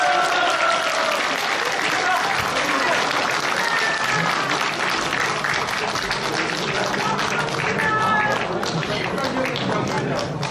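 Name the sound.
applause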